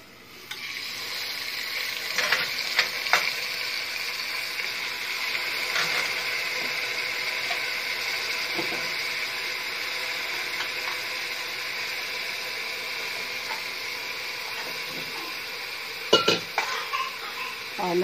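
Spinach sautés over high heat in a pan with lightly browned onion and garlic for chana dal palak, sizzling and crackling steadily up close, with occasional clinks and scrapes of a stirring spoon.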